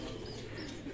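Soft pigeon coos murmur low beneath steady background noise, faint and continuous with no clear breaks.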